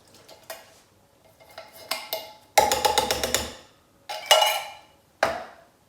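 Metal lids and cans being handled while opening cans of white hominy, a series of sharp clanks and scraping rattles in uneven bursts, close and crisp with short pauses between.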